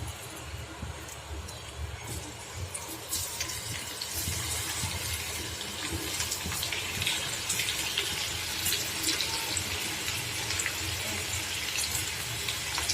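Steady crackling sizzle of onion fritters frying in hot oil, fairly quiet and continuous, with occasional sharper pops.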